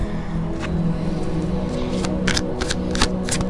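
Tarot cards are shuffled by hand in quick riffling bursts, close and crisp, with short pauses between over a low steady hum.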